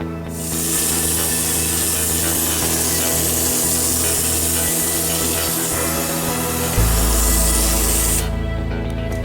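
An air compressor feeding a texture sprayer hisses loudly as it sprays onto scrap drywall in a bathroom remodel, a steady broad spray noise that runs for several seconds before a low motor rumble kicks in near the end.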